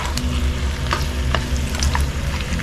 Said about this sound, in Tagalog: Mapiprito siya sa sariling mantika niya